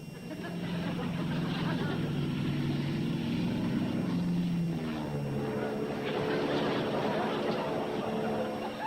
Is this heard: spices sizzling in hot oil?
no